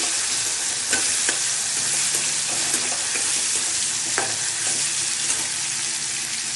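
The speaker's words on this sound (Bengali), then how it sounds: "তাই এইভাবে করে সব কিছু ফ্রাই করে নিচ্ছি" Eggplant, tomato and capsicum fry in a pan for Bengali begun bhorta, a loud continuous sizzle with repeated scraping and tapping of a spatula as the vegetables are stirred, no talking.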